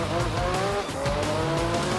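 A car slides in Gran Turismo 3 with its tires squealing in sustained, wavering tones over a loud, pulsing engine roar.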